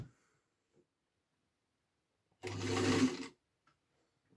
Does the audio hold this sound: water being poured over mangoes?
no